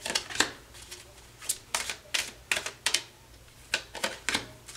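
Tarot cards are riffled and shuffled by hand, a series of sharp, close, papery flurries in quick irregular bursts with brief pauses between them.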